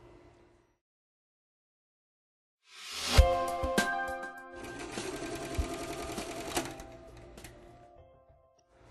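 An E Series embroidery machine stitches after a brief silence, with a loud mechanical start, then a steady rapid whirring and clatter of the needle that holds fairly constant before stopping near the end.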